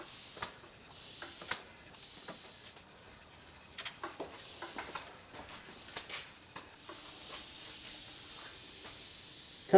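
A powder coating gun sprays powder onto a prepared part in short hissing bursts, with quiet clicks and pauses between passes and no talking.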